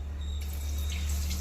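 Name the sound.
milk being poured into water in a pan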